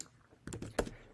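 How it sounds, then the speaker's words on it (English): Quiet, close computer keyboard typing, a short cluster of four or five soft key clicks in quick succession against a faint background. "Type it in."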